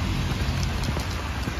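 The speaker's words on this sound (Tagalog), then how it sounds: "Umuulan" Steady rain pours down outdoors in the Philippines, a dense, even hiss of drops on surfaces that holds constant without a break and no voices over it.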